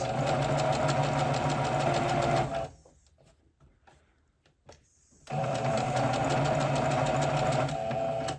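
A sewing machine runs fast and loud stitching a raglan t-shirt seam, stops for about three seconds of near silence with small handling noises, then resumes the same steady whir.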